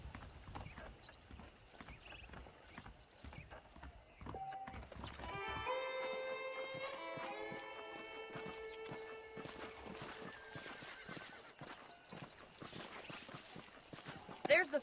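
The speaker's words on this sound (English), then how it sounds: "The horses are saddled up over here." Horse hooves clip-clop in Red Dead Redemption, set in Xenia, a steady walking rhythm of hoofbeats under a man's speech and game music, with a brief whinny near the end.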